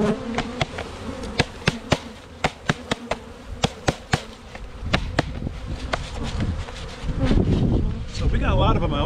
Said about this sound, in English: We'll take these 4 pounds of bees, or 2 pounds of bees,